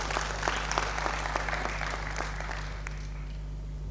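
Applause from the audience at a capital markets launch ceremony, a patter of many hands at moderate distance over a steady electrical hum, thinning out toward the end.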